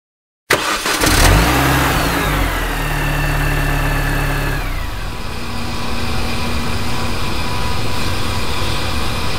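A Yugo car engine starts up and idles loudly nearby, then revs and settles as the car is driven into a garage, with a steady mechanical drone throughout.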